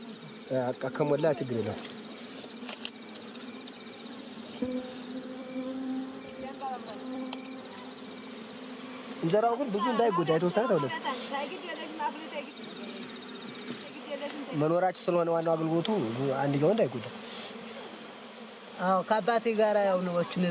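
Bees hum steadily around an open bees' nest as a man plunges his bare arm in to harvest honey, a low continuous drone with louder swelling bursts of buzzing coming close at intervals.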